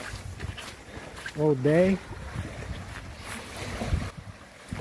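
Strong wind sweeps across the Lagoa do Perí sailing school in Florianópolis, a continuous rushing roar that buffets the microphone while a voice briefly speaks over it.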